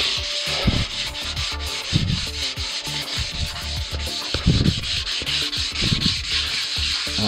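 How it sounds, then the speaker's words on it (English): Sandpaper rubs back and forth along the grain of a wooden kit guitar body, a close, steady rasping in repeated strokes with no voices. "And sanding as much as you can with the grain."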